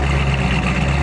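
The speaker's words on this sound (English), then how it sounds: "It's got an awesome sound to it. It's got a nice lumpy idle." A Ford 428 V8 idles with a lumpy, uneven rumble. The sound is a steady, close, loud low-frequency drone that runs the whole time with no talk.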